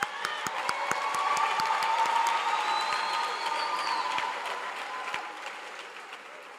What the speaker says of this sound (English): Let's give all the graduates a warm round of applause.